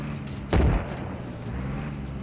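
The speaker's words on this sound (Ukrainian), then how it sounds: "Міномети прилетіли майже по мені." A mortar round landing close by in the video game ARMA Reforger, one heavy booming impact that rises abruptly and fades into low rumbling background noise.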